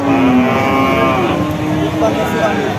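A cow moos loudly and close by at a cattle market, one drawn-out low call followed by a shorter second low, with market bustle behind.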